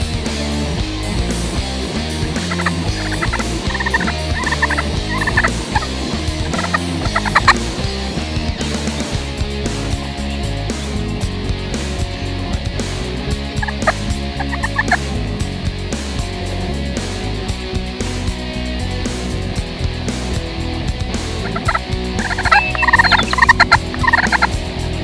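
A wild turkey gobbles repeatedly during a spring hunt as it slowly works toward a decoy. The calls come in loud, rattling bursts over steady outdoor background noise, with no talk.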